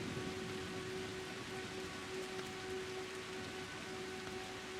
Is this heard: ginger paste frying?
no